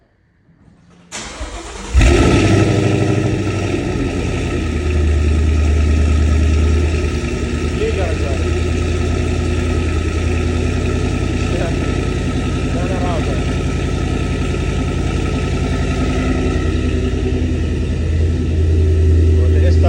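A 5.0-litre petrol Ford Mustang GT with a remapped exhaust cranks and fires with a sharp burst, then settles into a deep, steady, rumbling idle heard up close and loud, with light voices talking under the engine.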